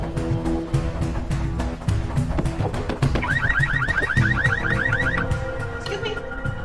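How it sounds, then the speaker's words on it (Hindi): Car alarm going off outside a building, with a loud cycling electronic siren pattern of repeated pulses and warbling sweeps that shift between phases, and no talk over it. "वो गाड़ी का अलार्म बज रहा है।"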